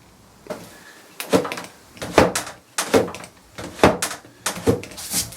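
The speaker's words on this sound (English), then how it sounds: "Something's obviously hitting this as I'm trying to pull the drawer" Wooden drawer of a 1950s Jentique writing bureau being pulled and sticking: a loud series of about six rough scraping, knocking bursts in an uneven rhythm, close up, with no talking.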